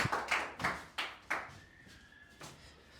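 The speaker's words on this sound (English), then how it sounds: "Invite him with your clap" An audience claps in a slow, steady rhythm, about eight claps in total, spaced evenly in an echoing room during a group discussion, with a short pause near the end.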